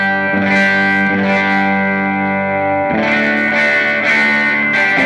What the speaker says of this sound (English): We're going to demo this Morpheus Droptune pedal.